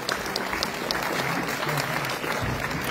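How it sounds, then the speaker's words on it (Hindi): Sustained audience applause at a formal honouring ceremony during a cultural event, steady dense clapping throughout at moderate loudness with no voices on top. "जोरदार तालियां उनके लिए।"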